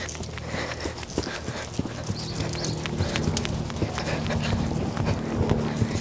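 Horse trotting bareback with a rider, a steady rapid clip-clop of hooves close by over constant outdoor noise.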